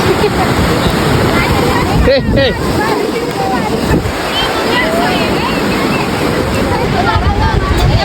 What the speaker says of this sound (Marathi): काय मस्त लाटा बिटा आल्यात